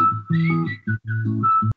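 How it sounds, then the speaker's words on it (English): A clear whistled melody of short sustained notes rides over a soft acoustic backing, pausing briefly mid-phrase. "And then I added a whistle on top of that."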